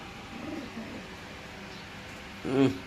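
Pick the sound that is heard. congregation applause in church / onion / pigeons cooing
pigeons cooing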